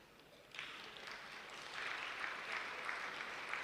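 An audience claps at a talk, a faint, distant wash of applause that swells a little and holds steady without any voices.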